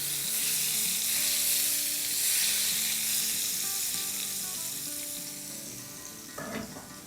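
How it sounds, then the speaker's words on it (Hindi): Loud, steady sizzling of red chili powder and spices tempering in hot oil for Punjabi pakora kadhi, crackling continuously and easing off toward the end, with a brief clink near the close. "और तड़का लगा देंगे"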